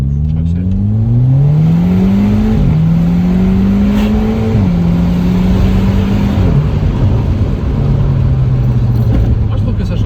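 A cheap car fitted with a stainless steel exhaust line revs loudly and close by. The engine pitch rises in steps through several gear changes, then settles into a lower steady drone.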